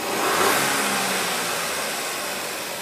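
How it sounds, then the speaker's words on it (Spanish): A car engine revs up loudly and steadily during a diesel particulate filter check, a broad roaring drone that holds for a few seconds with no talking. "si aceleramos el vehículo veremos cómo sube."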